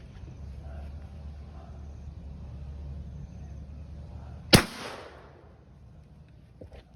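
A single sharp, loud gunshot from a .22 WMR rifle firing an Armscor jacketed hollow point round into a coconut outdoors, a crisp crack followed by a short decaying tail over low background hum.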